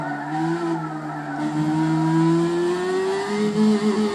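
A Honda S2000 race car in Gran Turismo 6 spins out under too much throttle. Its engine holds a loud, steady revving drone whose pitch climbs gradually over several seconds, with no voices.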